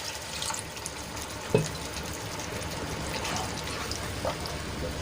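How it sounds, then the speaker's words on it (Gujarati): About a glass of water is poured into a simmering pan of gravy, a soft, faint splash and trickle of liquid with one brief knock, quiet and close, with no voices. "અહીંયા હું એક ગ્લાસ જેટલું પાણી એડ કરું છું"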